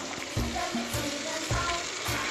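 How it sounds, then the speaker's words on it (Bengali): Washed, drained chicken pieces go into a pan of frying garlic masala, giving a steady sizzle broken by regular rhythmic stirring thumps and scrapes, close and moderately loud with no speech. "এবার দিয়ে দেবো ধুয়ে রাখা চিকেন, জল ঝরাতে দিয়েছিলাম ঝুড়িতে, ধুয়ে রাখা চিকেনটা দিয়ে দেবো।"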